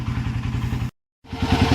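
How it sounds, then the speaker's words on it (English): A Honda TRX400EX ATV engine revving up close, a loud rhythmic thumping single-cylinder throb that cuts out briefly and then returns with a rising rev. "Just gave her a couple revs, fan came on."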